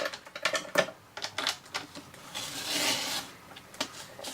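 A scoring tool scratches a diagonal line across a cardstock square on a scoreboard for easel cards, giving a run of short, close rasping strokes followed by one longer steady scrape.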